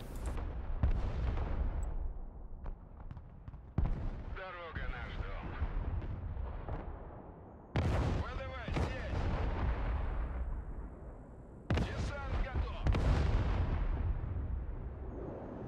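Cluster-shell artillery fire from the game Broken Arrow during a Russian city battle, with heavy booming blasts that come in several loud bursts, rumbling on between them, and a voice talking underneath.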